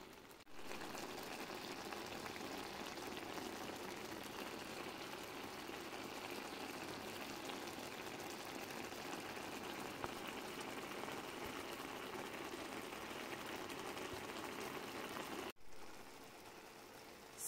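Mini bitter gourd (ampalaya) cooking with eggs in a pan gives a steady, close sizzle and bubbling hiss that runs almost unbroken, with one short drop near the end.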